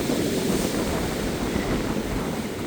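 Ocean waves at a Florida beach at night make a dense, continuous roar of surf, heavily mixed with buffeting wind noise on the microphone, loud and unbroken, with no voices.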